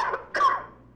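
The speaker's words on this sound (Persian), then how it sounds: "شما هم ان شاء الله سرفهاتون خوب بشه" A single cough sits close and clear on a call-in broadcast, with a softer sound just before it and a quick fade after.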